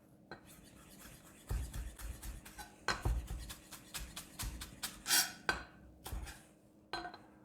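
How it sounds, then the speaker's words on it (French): Fresh coriander being finely chopped with a knife in a home kitchen, giving a run of close, irregular taps and clicks on a cutting board with brief louder knocks and pauses between bursts. "On passe maintenant à la coriandre. Donc on va ciseler l'équivalent de 2 belles cuillères à soupe."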